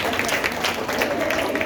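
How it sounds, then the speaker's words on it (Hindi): Loud, dense clapping from an audience at a children's Independence Day dance program, sustained throughout with crowd noise and a voice speaking over it. "और जोरदार ताली हो जाए पुरुषोत्तम के लिए।"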